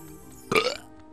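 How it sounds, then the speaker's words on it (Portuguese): A single short burp, loud and close, cuts through quiet background game music. "Arrotei novamente."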